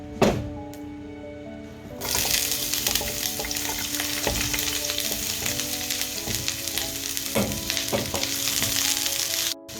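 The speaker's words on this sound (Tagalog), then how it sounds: "Maggisa na tayo." Onions sauté in a pan for pakbet. After a quiet start with a knock, a loud hiss bursts in and holds steady, punctuated by repeated scraping stirs of a utensil, with no talking.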